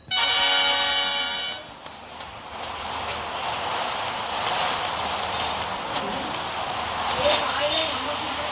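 Train horn blaring with stacked harmonic tones in the Rope Hero video game, loud for the first second and a half, then giving way to a steady rumbling wash of passing train noise with a few clanks.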